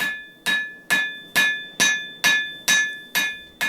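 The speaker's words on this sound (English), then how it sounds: "Now as I hammer this way, the whole entire blade starts to curve as well." A hammer strikes a forge-welded wire rope Damascus knife blade on an anvil in eight loud, evenly spaced ringing blows with a metallic ring trailing after each.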